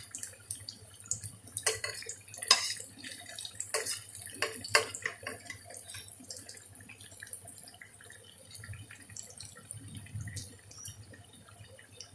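Running tap water pours steadily into a sink while hands are washed in a kitchen where falafel is being fried, with splashy bursts near the start under a low constant hum, fairly faint and with no speech.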